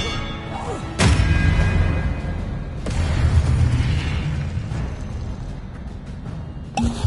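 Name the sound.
Expelliarmus spell effect in video game Hogwarts Legacy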